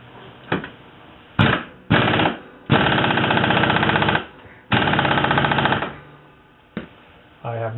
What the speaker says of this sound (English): we're going to use an impact wrench